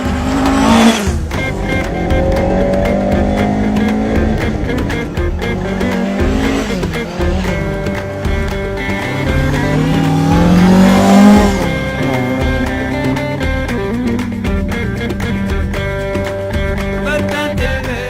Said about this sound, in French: Les voilà repartis sur les pistes en terre où ils n'hésitent pas à s'amuser au volant de la voiture historique.